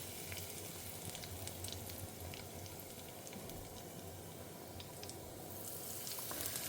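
Mustard seeds with cumin and curry leaves spluttering in hot oil, a tempering for moong dal: a dense, steady crackle and sizzle close by, with no talk.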